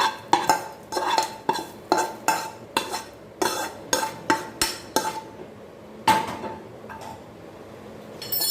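A metal spoon stirring tempering into pomegranate in a pot, giving a regular series of sharp clinks and scrapes against the metal, about a dozen strokes, close and alone.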